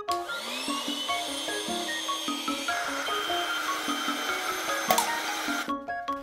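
A small electric air pump inflates a cheap inflatable pool, giving a steady mechanical whir with shifting tonal hums that runs throughout, fairly close and alone, then cuts off near the end.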